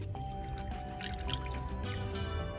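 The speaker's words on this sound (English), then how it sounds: "we're gonna start by pouring our buttermilk in" Buttermilk pours into a container for homemade butter, a soft continuous liquid trickle with small drips and splashes, close and fairly quiet, with no talking.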